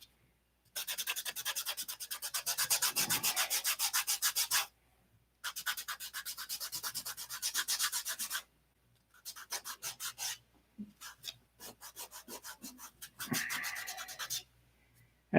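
CA glue is sanded off fingertips in close, scratchy bursts of quick rhythmic rubbing strokes, separated by short pauses, with a few brief choppy passes near the end.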